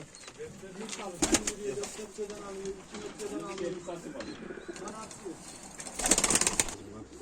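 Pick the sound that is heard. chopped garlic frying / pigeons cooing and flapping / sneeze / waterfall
pigeons cooing and flapping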